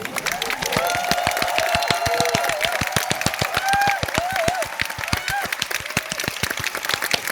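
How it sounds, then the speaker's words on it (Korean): An orchestra concert audience applauds steadily at a StarCraft music performance, many hands clapping in a dense, continuous patter, with a voice or two murmuring underneath. "그래서 지금 좀 박수를 제가 받고 싶은데"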